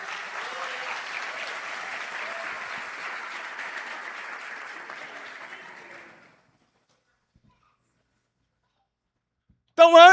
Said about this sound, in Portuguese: Aplauda com vontade, glorificando a Deus.